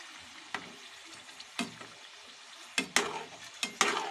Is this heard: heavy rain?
no